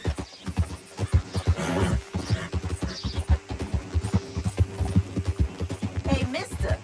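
Horse hooves clip-clop steadily at a close, brisk rhythm in Red Dead Redemption 2, with occasional whinnies and game voices talking over the hoofbeats.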